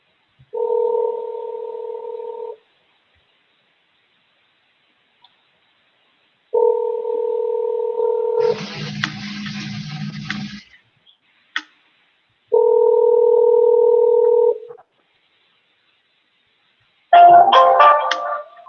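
A steady two-tone telephone dial tone sounds in three separate bursts with silences between, during a council video conference call. Brief noisy bursts and a few short dialing beeps come in between them.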